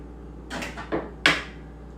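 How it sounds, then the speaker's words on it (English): Eggs are cracked on the edge of a table and pulled apart by hand: two or three short, close knocks and cracks spaced within a second, in a quiet room. "I'm going to take the eggs and I'm going to lightly crack them on the edge of the table and pull it apart with my fingers"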